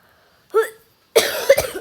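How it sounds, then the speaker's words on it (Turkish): A short cough, a brief pause, then a harsher double cough, close and loud against silence. "Bayağı bir öksürüyorum onu"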